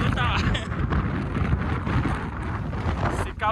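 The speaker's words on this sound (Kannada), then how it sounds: "ಗಾಳಿ ಹೋಗ್ತೈತಿ ಅಪ್ಪ, ನನ್ನ ಹಿಂದಕ್ಕೆ ತೊಳ್ತೈತೆ, ಆ ರೇಂಜಲ್ಲಿ ಗಾಳಿ ಇದೆ." Strong wind on the Nandi Hills hilltop, near a temple compound, roars and buffets the microphone continuously and loudly throughout, with no pauses.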